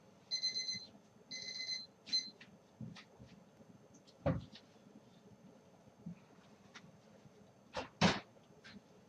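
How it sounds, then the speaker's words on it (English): A kitchen timer alarm beeps in two or three quick bursts near the start of a late-night tea-biscuit baking session, fairly faint, followed by sparse clicks and knocks of kitchen work. "There's my timer for spinning."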